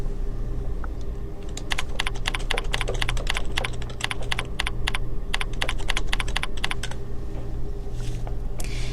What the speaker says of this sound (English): In the question field, enter the question text